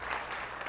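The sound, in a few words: audience applause at a conference talk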